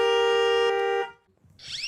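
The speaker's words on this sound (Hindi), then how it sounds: "हॉर्न बजाओ" A single long vehicle horn blast sounds loud and steady for about a second, then cuts off abruptly, followed by a brief quiet gap and a rising whoosh.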